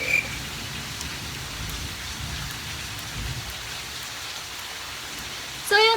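Steady rain pours throughout with a low rumble of thunder swelling midway, then a brief sharp chirping call breaks in at the very end.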